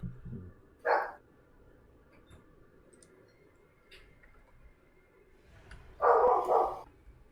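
A puppy barks twice, a single short yap followed several seconds later by a louder, longer burst of barking, close by with quiet gaps between.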